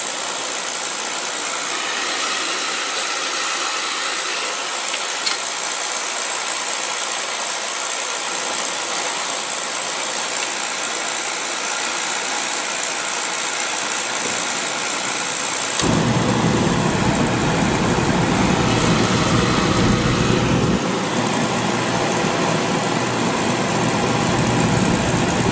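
A Beckett oil burner fires after a call for heat. A steady hiss and hum gives way to a louder, fuller roar with a slight rattle that holds steady, and there is no speech.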